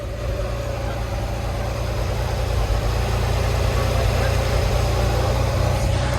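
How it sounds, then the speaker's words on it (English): A 1989 Ferrari Testarossa engine idles in a steady, deep rumble with a throbbing low pulse, close by and constant throughout. "So Art just started the car."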